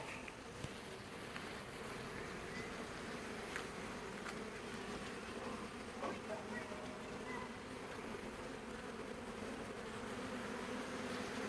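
Honeybees at a nucleus hive drone in a steady, continuous buzz, close and even throughout, with no break in the sound.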